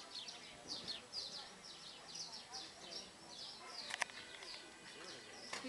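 Little bird near a beach restaurant table at Playa del Duque, Tenerife, repeating quick high chirps in a steady series, faint against murmuring diners and a brief clink.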